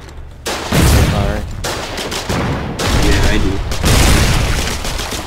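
Artillery shelling a watchtower in the war game Foxhole, with heavy booming blasts and rolling gunfire in loud overlapping bursts, while players talk over the din.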